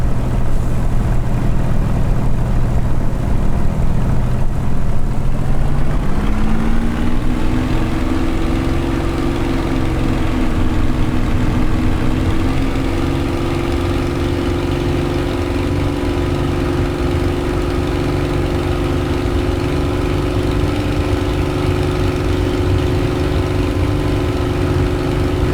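A Spitfire's piston aero engine runs loud and steady close by, its deep drone rising in pitch as power is applied partway through, then holding at the higher steady roar.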